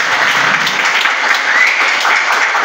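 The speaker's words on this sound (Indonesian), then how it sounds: "Tepuk tangan saudaraku." Audience applause at a prisoner remission ceremony, a steady dense clapping from a crowd that holds evenly throughout with no talk over it.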